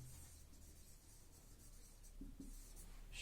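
Someone writes on a board in a classroom lesson, making faint scratchy strokes in short bursts against a quiet background.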